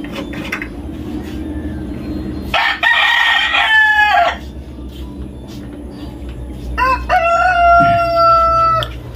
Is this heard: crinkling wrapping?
no